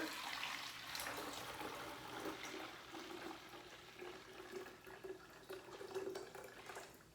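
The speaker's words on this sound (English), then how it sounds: "I'm just going to pour the tea through the strainer into the pitcher" Hibiscus tea is poured through a strainer into a pitcher, giving a continuous trickling, splashing stream of liquid that is moderately loud and unbroken, with no one talking.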